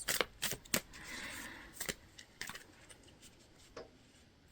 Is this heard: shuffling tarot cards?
yes